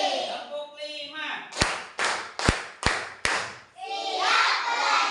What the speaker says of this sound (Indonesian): Konsentrasi. Tepuk 5.